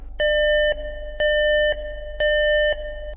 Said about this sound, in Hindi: उसके सिस्टम में से अलर्ट का आवाज़ आने लगा